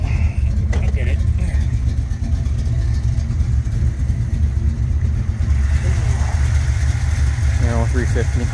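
A modified Chevrolet Corvette C3 with a 350 engine idles steadily and close by, its low rumble running throughout while a person talks over it.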